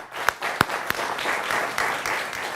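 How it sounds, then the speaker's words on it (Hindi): Studio audience applause for guests on a Hindi political TV debate show, a steady wash of clapping from a crowd with a few sharper individual claps standing out near the start, moderately loud and continuous. "आप दोनों के लिए जोरदार तालियां"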